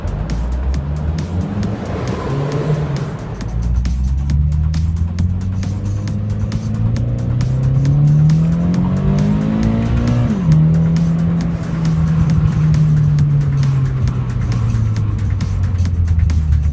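A Scion FR-S car engine with an aftermarket exhaust starts and revs, its deep droning note rising and falling steadily close by with no talking.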